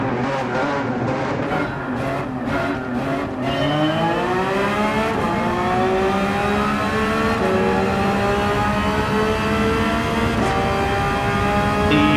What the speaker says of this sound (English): The Porsches will rev the balls off it